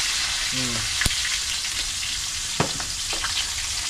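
An egg fries in a pan with a steady, close sizzle and crackle, broken by a few sharp pops and utensil clicks.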